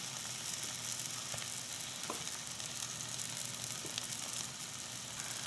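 Turmeric, chili and coriander powders fry in a hot pan for a tomato curry, giving a steady sizzle with light scraping from stirring, continuous and fairly faint, no voices.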